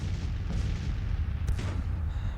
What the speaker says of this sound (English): I'm hoping the cannons can actually keep them down until we get in position